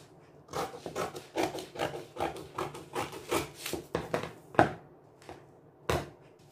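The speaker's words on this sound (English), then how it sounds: "So I've cut it off." Scissors cutting through a drafted paper gown pattern with a basque waistline, a close series of rasping snips in an even rhythm, followed by a few separate louder cuts, with no talking.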